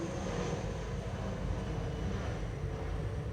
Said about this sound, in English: The runway is really noisy today, isn't it?